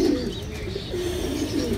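Pigeons coo softly in a loft, low rolling calls repeating in a loose rhythm at moderate distance, with no voices.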